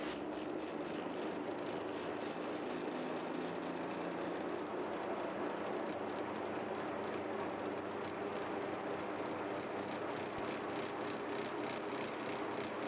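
A Raptor prototype engine runs at a raised idle near 1900 RPM, a steady broadband drone with hissing airflow and a low rumble, constant and close with no talk.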